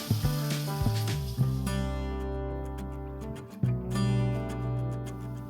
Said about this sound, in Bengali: আমি মাছগুলোকে তাওয়া ফ্রাই করবার সময় খুব ধীরে ধীরে ভাজি